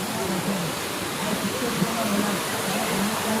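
Water rushes steadily along the Girnar mountain trail during the Lili Parikrama pilgrimage near Junagadh. The broad, constant roar sounds close, with faint voices low underneath.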